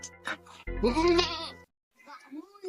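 A goat bleats close by in short, wavering calls, with a brief pause of silence before a softer bleat follows.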